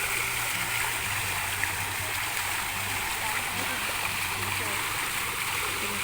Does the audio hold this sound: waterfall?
yes